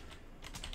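A few quick, faint keystrokes on a computer keyboard, clustered near the end of a short, quiet stretch of background noise.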